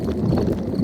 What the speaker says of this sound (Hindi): ये डैडी के पेट की आवाज